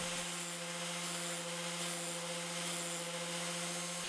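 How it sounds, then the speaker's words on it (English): A coarse diamond disc grinds the inner faces of saw blade teeth in a sharpening jig, a steady close whine with a constant hum and continuous gritty rubbing, no voices. "little by little we sharpen the entire blade"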